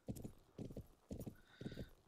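Horse hooves clip-clop in a steady walking rhythm in the riding game Planet Horse, four distinct clusters of crisp hoof falls, close and clear with a faint whinny-like tone near the end.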